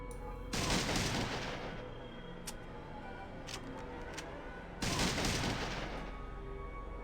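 Loud bursts of gunfire in the Fallout 2 video game, shotgun-style blasts in two heavy clusters with scattered single shots between them, close and without talk.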